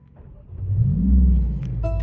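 A 2025 Mercedes-AMG CLA 45 S engine starts and revs briefly: a deep rumble swells to a short rev, then settles back into a steady idle with a faint high whine over the top.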